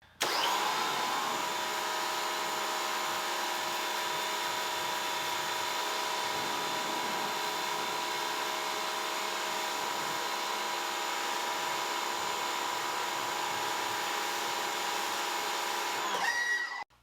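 A pressure washer on a car wash setup, fitted with a 1.25 orifice and a 3.0 nozzle for a PSI test, runs as a continuous high whine with steady hissing spray, starting and stopping sharply, with no talk over it.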